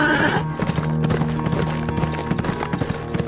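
Horse hooves clip-clop along a road as a radio-drama effect, a steady rhythmic trotting that sounds close, with a brief whinny near the start over a sustained low musical drone.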